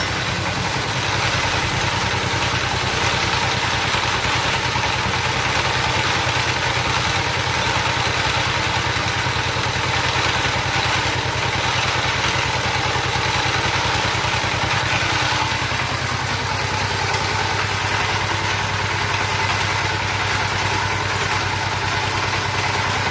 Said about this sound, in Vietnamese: Dùng máy D165 để kéo cái dàn khoan.